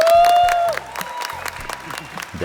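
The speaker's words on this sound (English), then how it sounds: "we heard applause" Brief applause rises from a puzzle competition crowd as the first finisher completes, faint scattered claps among background murmur and a sustained tone at the start.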